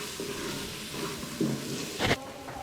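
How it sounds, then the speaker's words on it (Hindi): Spices with kalonji fry in a pan, a soft steady sizzle with a few scraping stirs and one sharper clank near the end, no voices. "इन सब चीज़ों को अच्छी तरह मिक्स करें और इनको अच्छी तरह फ्राई होने दें"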